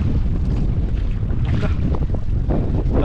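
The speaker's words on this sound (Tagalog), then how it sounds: "Sobrang lakas ng hangin mga idol." Strong wind roars across the open sea while a fishing boat is out on the water, a loud, continuous gusty rush with buffeting against the microphone and no talk.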